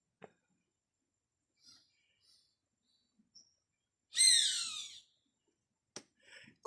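A bird calls in Manuel Antonio National Park with a single loud, bright burst of rapid chirping notes, set among sparse faint chirps and clicks in an otherwise quiet setting.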